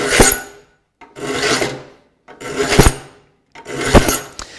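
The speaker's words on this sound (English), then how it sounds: "Now I'm filing the front of that tooth." A file sharpens a tooth on a rip hand saw in four loud, close rasping strokes at an even pace, each one a distinct scrape followed by a short gap.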